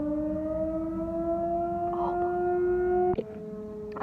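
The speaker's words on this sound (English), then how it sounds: "Okay, I think the siren is stopping now. It's going at a lower note." An outdoor civil defense siren winds down, its wailing tone sliding steadily lower in pitch, heard from a distance with a faint bark-like noise near the end.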